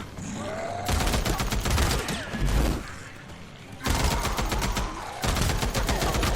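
Gunfire from the video game Days Gone comes in loud, dense automatic bursts, with several long volleys broken by brief pauses.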